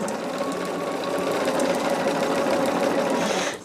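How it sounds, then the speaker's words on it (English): A sewing machine stitches a quilt seam in one continuous run, a fast even whirring hum close up, stopping near the end. "I pin the wrong edge, so then I sew the wrong edge."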